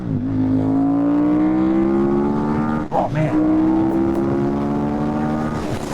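A 2008 KTM 990 Super Duke motorcycle engine pulls hard through the gears, its rising whine climbing, dropping sharply at a shift, then climbing again, loud and close, with a brief exclamation from the rider.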